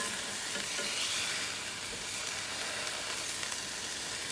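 Burgers cook in a skillet, a close, continuous sizzle of dense hissing fat with faint crackles, steady across the short stretch and with no talking.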